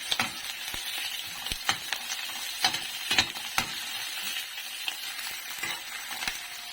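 Shrimp sizzle loudly in a hot pan while a utensil stirs and scrapes in quick, irregular strokes, with no talking.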